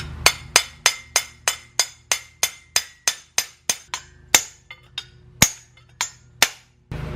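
Sharp metallic hammer strikes on a BMW trigger wheel during a budget drift car final-drive and differential job, about seventeen crisp ringing blows in a steady rhythm, close and alone, a few louder hits near the end.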